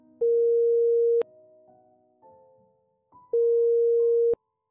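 Synthesized pure sine tone at the same pitch, played as two one-second steady beeps of equal loudness that sound identical, with sharp clicks at their starts and stops and faint quiet tones in the gap between them.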